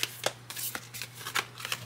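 Large Black Moon astrology cards being shuffled by hand, a quick run of crisp riffling bursts close up, alone without talk.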